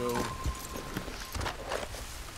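Horse hooves clip-clop in Red Dead Redemption 2, a few soft uneven steps heard faintly beneath the game's ambient sound.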